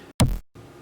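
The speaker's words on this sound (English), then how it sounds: "Here we have our kick" A single punchy electronic kick drum hit from a happy hardcore track, short and thumping, with quieter musical tones sitting around it.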